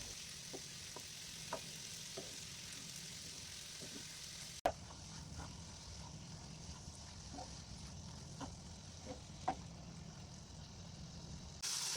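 Chopped tomatoes with garam masala sauté in a pan for tomato curry, a soft, steady sizzle with light, irregular taps of a stirring spoon, one sharp knock midway.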